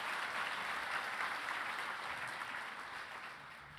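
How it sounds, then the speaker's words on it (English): An audience in a banquet room at an evening gala gives sustained applause, a thick even roar of many hands clapping that stays full before slowly tapering toward the end. "please give Yunji a round of applause"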